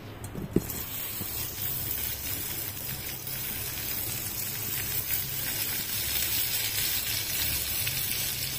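Cashews and melon seeds sizzling steadily in hot white oil in a wok, a loud continuous frying hiss with a faint clink near the start.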